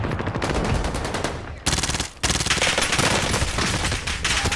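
Dense automatic gunfire from the Call of Duty Warzone Caldera video game, loud and nearly continuous rapid bursts with a brief gap before the shooting resumes.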